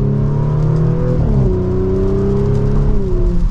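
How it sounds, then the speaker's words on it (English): A 2024 Audi S4 with its factory exhaust drives in dynamic setting and manual mode, the engine humming steadily and close, its pitch dropping briefly as a gear shifts and then holding firm. "Definitely has a good sound to it for this factory exhaust."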